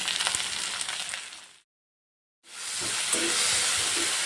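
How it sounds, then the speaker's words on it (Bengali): Chopped onion with salt sizzles steadily in hot oil that already holds whole cumin. The loud, close frying hiss cuts out for under a second, then resumes just as strong. "হালকা একটু লাল লাল করে ভেজে নেব"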